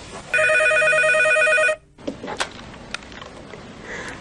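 A telephone rings loudly in one long electronic burst, then stops, followed by quieter clicks and handling noises on the line.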